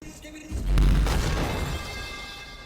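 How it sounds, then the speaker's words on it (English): The falling metal pipe meme sound effect from a Skibidi Toilet short: one loud, heavy clanging impact that rings out in a long, slowly fading metallic tail, with no talking. "But in the short version, you can hear the meme sound of a metal pipe."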